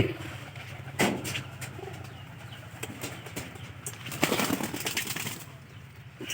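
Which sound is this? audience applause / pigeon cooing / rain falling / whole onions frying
pigeon cooing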